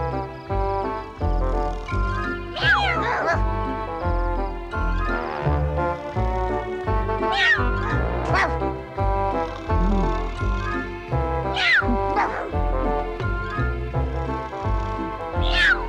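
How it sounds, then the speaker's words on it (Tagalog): A cat meows several times in drawn-out rising cries, heard over steady background music. "Meow."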